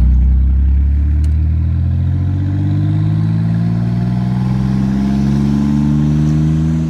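A twin-turbo 3800 L36 engine in a Camaro pulls hard on throttle, a loud continuous drone with rising pitch and a rough mechanical clatter underneath, heard close and steady for several seconds.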